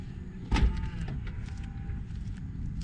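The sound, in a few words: Tesla Model Y push-button power liftgate closing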